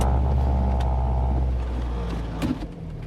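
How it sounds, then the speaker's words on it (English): A Mk1 Volkswagen Golf GTI pulls away on a test drive. Its engine hums low and steady and fades slightly, then a brief clunk near the end. "test drive Mark 1 Golf GTI Campaign. Here we go."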